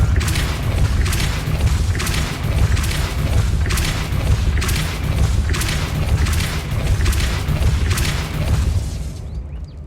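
A Depulso force spell in the Hogwarts Legacy game goes off as a run of heavy, booming bursts at regular intervals over a thick rumbling bed, loud and close, then cuts out.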